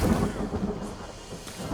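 Rain and rolling thunder in the survival video game The Forest make a brief, low, continuous rumble with a steady hiss of rain and no voices.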